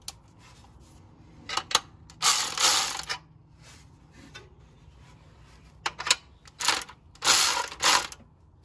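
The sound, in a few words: adjusting tension screw on power steering pump bracket, 1977 Ford truck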